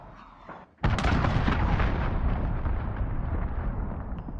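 A huge cruise missile blast from the Call of Duty: Modern Warfare shooter erupts after a quiet moment, a loud booming explosion with rumbling debris that stays heavy and sustained, slowly fading over several seconds.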